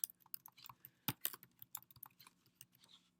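Fast, uneven clicking of keys on a computer keyboard while entering text into a spreadsheet formula bar, close and fairly quiet, with a few louder keystrokes standing out and no talking.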